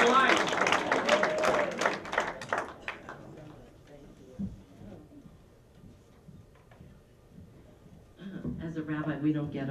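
Audience clapping and applause greeting a rabbi's stand-up comedy set, a loud dense burst that tapers off over a few seconds before a voice begins speaking near the end.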